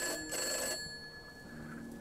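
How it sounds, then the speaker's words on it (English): A telephone rings with a tonal trill in a short burst, then fades away, leaving steady tones and low background noise; no talk is heard. "The phone."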